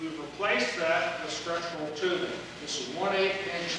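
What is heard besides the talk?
No distinct noise like a dog, phone or traffic.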